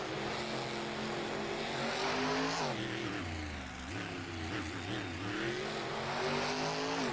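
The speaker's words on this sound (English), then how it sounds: "Throwing it into some donuts in the bottom of the track here." A freestyle monster truck engine revs hard while the truck spins donuts in the dirt at the bottom of an arena track in Houston, giving a loud, sustained roar with rising and falling pitch and no talking.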